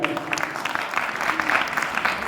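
Applause from the audience at a Republic Day celebration at a government college, a steady broadband wash of many hands clapping that holds evenly through the whole stretch with no voices over it.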